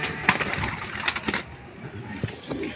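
Racing pigeons arriving at a loft during a Catbalogan day-bird race, with cooing and bird calls over busy rustling, wing flutters and scattered taps close by, a voice faintly present.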